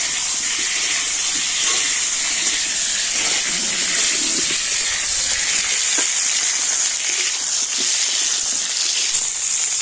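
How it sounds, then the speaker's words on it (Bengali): Pointed gourd (potol) pieces fry in hot oil, producing a loud, even, hissing sizzle that holds steady throughout with faint pops and crackles. "আর এবার আমি পটলগুলো কিন্তু খুব সুন্দর লাল করে ভেজে নেবো"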